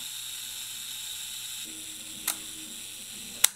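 The self-timer of a Canon Demi EE17 half-frame film camera whirs faintly after a quiet start, then gives a small click. A sharp mechanical shutter click follows near the end.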